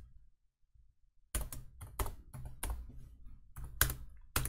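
Code typed into Android Studio on a computer keyboard: near silence with faint taps at first, then a run of loud, close, irregular keystrokes and key thumps with no speech.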